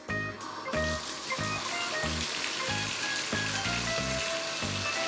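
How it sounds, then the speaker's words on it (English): Water from the tub tap rushes steadily into a bathtub drain, a continuous close hiss under rhythmic background music with a thumping beat. "And we just turn on the water. Let it roll in there and"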